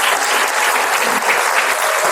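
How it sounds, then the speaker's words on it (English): Warm applause for the speakers at a university public speaking championship, a loud, even wash of many hands clapping close by, with no talk over it. "we should give them a round of applause."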